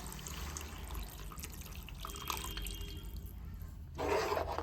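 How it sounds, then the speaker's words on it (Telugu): Soaked tamarind water poured into a small-fish curry cooking in a pan: a steady, close wash of running liquid that swells into a brighter, louder splash near the end, with no voices. "ఇప్పుడు మనం ముందుగా నానబెట్టుకున్నాం కదా చింతపండు పులు పులుపు వేసుకుందాము ఇందులో"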